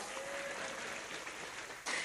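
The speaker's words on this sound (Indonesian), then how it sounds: "tepuk tangan dhisit kok" A faint, dense wash of applause from an audience at an Indonesian religious talk, steady and distant, swelling slightly at the end.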